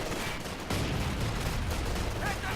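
Dense, continuous battlefield gunfire from a garrisoned building in Company of Heroes 2, a steady crackle of rifle and machine-gun shots layered with distant explosions, loud and unbroken throughout.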